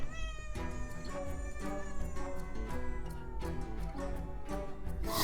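A domestic cat meowing close by, a series of loud, drawn-out, whiny meows following one after another with barely a pause, and no talking.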